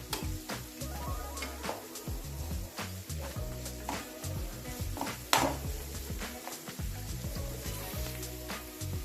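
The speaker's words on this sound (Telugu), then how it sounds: "3 పచ్చిమిరపకాయలు కట్ చేసుకుని వాటిని కూడా ఇలా ఫ్రై చేసుకోవాలి" Chopped onion and green chillies frying in a pan for gobi manchurian, a continuous sizzle dotted with frequent utensil scrapes and clinks against the pan, one sharper knock midway, no voices.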